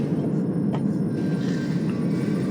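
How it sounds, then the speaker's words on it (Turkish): A tram rolls in during Grand Theft Auto V play, a steady low rumble of rail running with faint squeals and clanks, close and continuous throughout. "Aa, tramvay."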